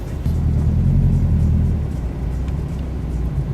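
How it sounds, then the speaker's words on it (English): A loud Subaru Forester L engine idling at a Subaru car meet, a steady deep rumble with a slight swell early on, close by and with no talking over it. "And it's crazy loud for a Forester L."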